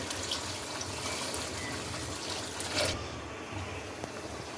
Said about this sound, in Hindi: इसमें पानी शामिल कर दें।